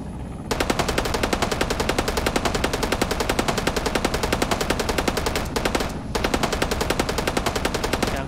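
Sustained machine gun fire in rapid, even bursts, loud and close, with one brief gap partway through and no talk over it.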